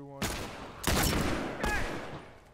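Turret gunfire in a video game comes as three quick loud bursts of rapid shots, each with a hard attack and a slowly fading tail, close and forceful.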